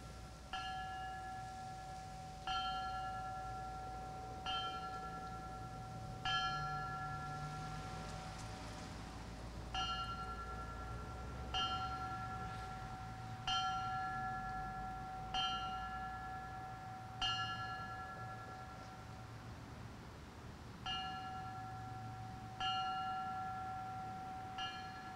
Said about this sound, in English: And at this time, Brendan Michike will bring the bell.